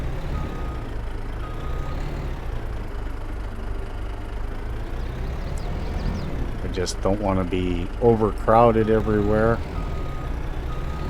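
A truck in the Farming Simulator 22 video game sounds faint reversing beeps over a low, steady engine rumble, with someone talking over it in the second half.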